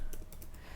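Fingers typing on a computer keyboard, a few quick soft key clicks close by in a quiet room, brief and faint with no talking.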